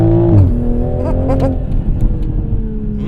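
A Toyota GR Supra engine pulls hard under acceleration, a loud, steady mechanical drone with rising harmonics heard from inside the car and a brief exclamation at the start.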